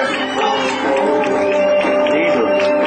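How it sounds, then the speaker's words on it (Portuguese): Guests at a surprise birthday celebration for a boyfriend clap and cheer together in a close, lively burst of crowd noise, with whoops and voices mixed through the applause. "Pode bater palmas aí."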